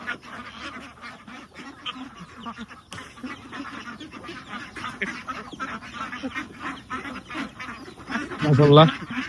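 Ducks give a short burst of quacking near the end, following a stretch of soft background noise and talking.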